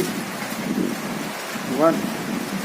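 Steady heavy rain hisses throughout, with a brief tonal chirp near the end; no talk is heard.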